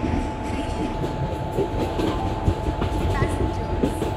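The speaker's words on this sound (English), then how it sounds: "Deccan Odyssey Special Express is scheduled to depart from platform number 3." The Deccan Odyssey luxury tourist train, train number 3456, rumbles at a station platform with a continuous low mechanical roar and faint clattering, a steady tone running beneath it and brief distant noises on top.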